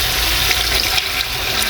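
Water from a tap pours steadily into a pot of goat stew, a continuous close, hissing splash with no break through the short stretch.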